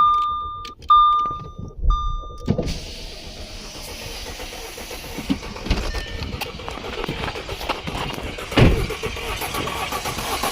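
A 2012 Audi A4 2.0T engine with a dead cylinder runs unevenly, and its rough idle shows irregular thumps and uneven pulses. Short beeps come first, then the running engine sits fairly close with no talking.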